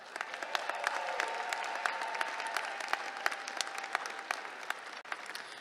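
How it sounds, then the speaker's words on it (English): Sustained applause from a large commencement audience at an outdoor graduation ceremony, a dense steady wash of many hands clapping with sharp individual claps standing out, holding at an even level for several seconds. "Another round of applause for our friends and family for their unwavering support."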